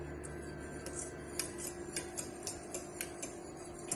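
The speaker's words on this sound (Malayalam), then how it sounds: "മിൽക്ക് തിക്കാൻ വരെ ഇളക്കിക്കൊണ്ടിരിക്കണം" Milk for mango kulfi is stirred in a pan, giving a steady series of light metallic ticks and scrapes over a low background hum, fairly faint and regular.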